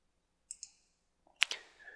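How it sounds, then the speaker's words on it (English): A computer mouse clicks the New button in VirtualBox, heard as two soft close clicks followed by a sharper pair of clicks a moment later, alone without talk. "let's begin by clicking on the New button"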